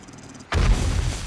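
A landmine detonates in the zombie survival game 7 Days to Die: one sudden, loud, close boom with a deep rumbling tail after a quiet moment.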